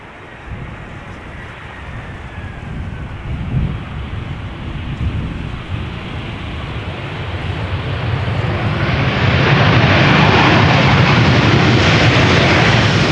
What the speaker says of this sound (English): EasyJet A319 behind it, arriving from Palma de Mallorca